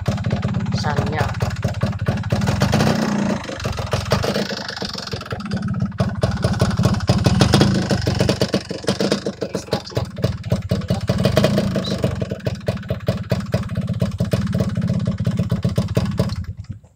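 A 1991 Yamaha RX-Z motorcycle engine idles steadily and close by, a continuous mid-pitched throb that runs under someone talking throughout.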